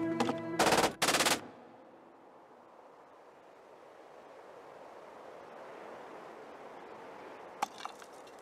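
Two short bursts of automatic gunfire crack out close and loud in a drama scene, followed by a long quiet stretch of low ambient noise and a faint sharp click near the end.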